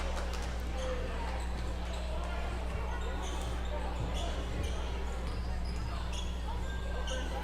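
A basketball is dribbled on a hard court during a high school game between West Central and EPJ, its bounces partly buried under a constant roar of crowd noise and an announcer's commentary.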